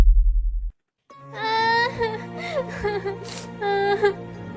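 A girl cries indoors at night, a sequence of close, wavering sobbing wails with pitch bends, starting after a brief silence and lasting several seconds.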